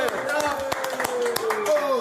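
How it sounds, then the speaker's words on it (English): A crowd clapping for a rapper during a podcast, with rhythmic, evenly spaced hand claps heard close up under loud, continuous speech from people in the room. "Clap your hands."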